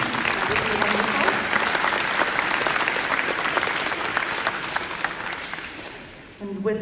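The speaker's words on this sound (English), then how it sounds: "if you can give a round of applause to everyone, that would be wonderful." A town hall audience in Clackamas County gives elected officials a sustained round of applause, dense clapping that gradually fades before a voice begins speaking at the end.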